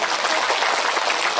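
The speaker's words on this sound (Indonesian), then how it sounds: "jadi tepuk tangan untuk Bujelin" A crowd at a lighthearted Islamic sermon breaks into applause, a brief dense wash of clapping that fills the room loudly and evenly with no voice heard over it.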